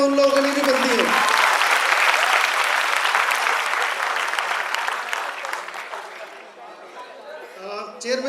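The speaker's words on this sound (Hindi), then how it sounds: "एक बार जोरदार तालियां उन लोगों के लिए भी बनती है।" Loud audience applause at a college annual function, a dense sustained burst of clapping that fills the room and then gradually thins out and fades.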